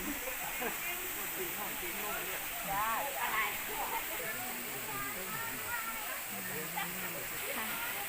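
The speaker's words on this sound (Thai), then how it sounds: "มีน้ำตก" A steady rushing hiss from a waterfall at a hillside temple cave site runs continuously in the background while someone talks over it.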